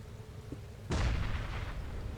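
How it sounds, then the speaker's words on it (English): A large explosion rumbles up from a flooded cave in Minecraft, a single sudden heavy boom that cuts in after a quiet stretch and holds as a dense roar, with no voices. "even though I'm hearing large explosions down there"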